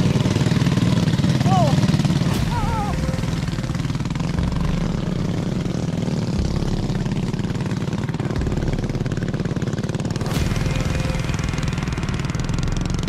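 A motorcycle engine labors steadily up a steep, continually rising rural road in Indonesia, a constant loud drone with brief high chirps over it, and voices talking faintly in the background.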